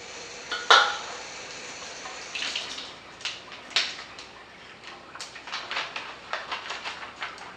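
Water goes into a measuring cup for an edible map project, a splashy trickle with clinks of utensils and dishes, then a run of small light taps and stirring sounds.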